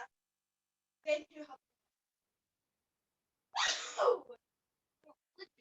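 A single sharp sneeze bursts out, preceded and followed by brief spoken voices nearby.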